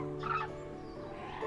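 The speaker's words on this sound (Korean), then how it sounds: "한탄강의 철새들입니다." Migratory birds wintering on the Hantan River near the Cheorwon plain give a couple of short, hoarse calls over a low, steady outdoor rumble, fairly faint and distant.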